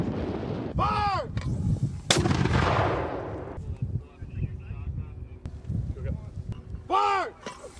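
Gunfire cracks out during a U.S. Army paratrooper live-fire drill with Slovenian forces, with loud blasts, a long rumbling echo, scattered distant shots and wind, while commands are shouted between them.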